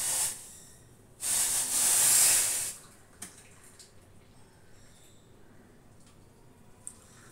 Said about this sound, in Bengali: চাটাকে ছেঁকে নিই